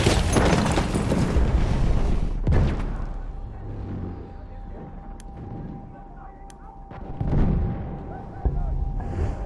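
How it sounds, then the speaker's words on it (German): A grenade blast in the World War I shooter Battlefield 1, a deep boom followed by rumbling battle noise and sharp gunfire cracks, with a second heavy burst near the end. "Vorsicht, sie werft eine Granate!"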